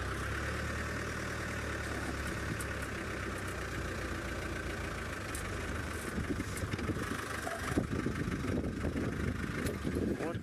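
A safari vehicle's engine idles and rumbles steadily at close range as the vehicle swings around during a cheetah hunt at sunrise, with wind noise and faint speech over it.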